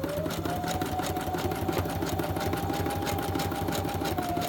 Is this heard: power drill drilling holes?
no